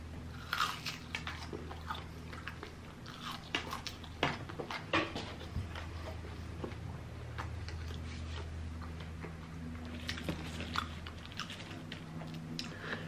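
Close, wet bites and chewing of an Arby's sandwich with barbecue sauce, irregular crunchy and squishy mouth sounds over a low steady background hum, with no talking.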